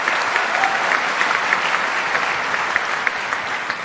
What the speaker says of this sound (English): All these claps are for you.